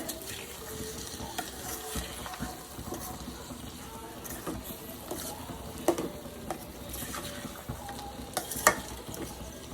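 Boiled potatoes being added and stirred into a sizzling tomato masala in a pan, with steady frying crackle and scraping stir strokes throughout, a few sharper clinks near the end.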